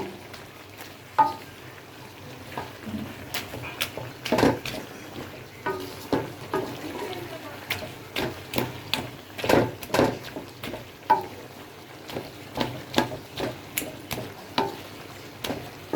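Small pieces of snakehead fish stir-cooked in a pan with country beans, tomato and coriander leaves, heard as a steady run of sharp spatula scrapes and knocks over a soft sizzle, close and uneven in rhythm, with no talking.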